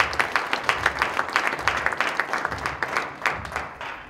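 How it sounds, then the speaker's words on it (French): An audience applauds at a Congolese political gathering, the clapping starting strong with distinct sharp claps standing out, then gradually thinning and fading over about four seconds. "applaudissez pour vous-même et pour votre présence"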